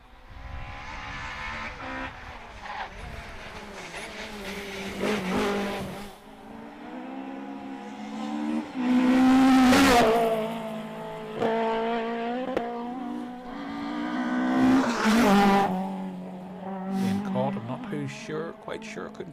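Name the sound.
rally cars racing past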